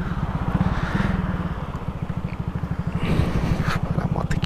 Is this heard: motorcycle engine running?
yes